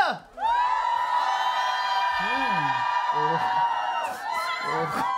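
A studio audience at an idol radio show lets out a long, high-pitched collective scream that holds steady for several seconds and then fades. Voices talk and exclaim over it, and the cheering rises again near the end.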